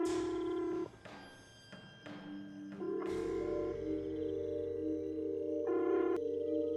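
A telephone ringback tone after a call is dialed, with repeated electronic ringing pulses in a quiet setting and no voices.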